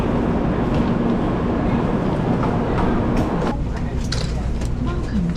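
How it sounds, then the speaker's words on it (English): Steady rumbling rolling noise of a Shinkansen bullet train ride in Japan, broadband and continuous, with faint clicks and a muffled shift partway through. "About to be my first experience with the bullet train."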